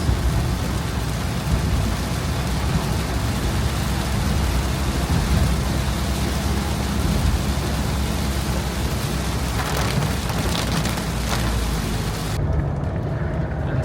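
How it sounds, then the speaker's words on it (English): Heavy tropical rain pours steadily in Borneo, Malaysia, as a loud, dense hiss with low rumbling throughout, easing slightly near the end. "you're gonna see a lot of rain like this"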